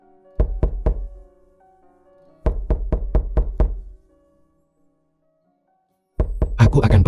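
Knocking on a door in three bursts: three quick raps, a pause, then a longer run of about six firm knocks, a silence, and a final flurry. The knocks are close and loud, with a low hum underneath.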